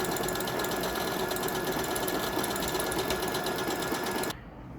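A Juki Myria DX sewing machine stitches an embroidery pattern, a fast, steady mechanical chatter close by that runs evenly and then cuts off abruptly near the end.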